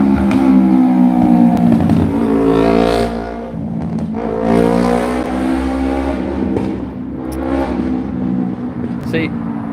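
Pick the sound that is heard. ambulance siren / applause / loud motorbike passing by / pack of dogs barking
loud motorbike passing by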